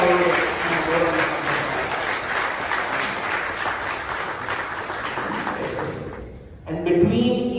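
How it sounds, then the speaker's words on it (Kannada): An audience at a senior citizens' health awareness programme claps loudly together, a dense sustained burst of applause that fades briefly before a voice starts speaking near the end. "ಜೋರಾಗಿ ಚಪ್ಪಾಳೆ ತಟ್ಟುವುದು."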